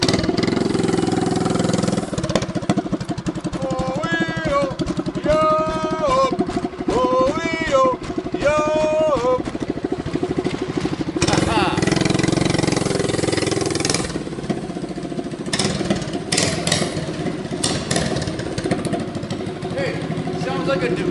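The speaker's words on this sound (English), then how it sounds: "sounds like a Ducati with the open clutch" A Bad-Dog 212cc hot rod engine runs steadily and loudly throughout, close by, with someone talking over it in stretches.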